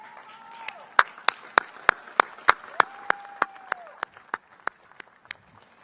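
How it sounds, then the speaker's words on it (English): Scattered applause at a university graduation commencement ceremony: sharp, spaced claps, moderately near, with a faint voice murmuring underneath, thinning out toward the end. "join me in applauding your success"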